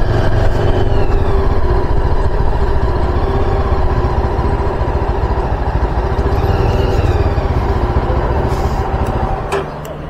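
A motorcycle idles at a toll booth on the climb from Siliguri toward Darjeeling during a touring trip. The engine rumbles loud, close and steady throughout, dipping slightly near the end.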